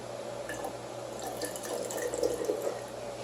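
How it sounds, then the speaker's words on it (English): Watermelon juice pours from a cutting board into a container, a faint trickling and dribbling over low room hum, growing slightly louder toward the end. "I can just pour it directly into here."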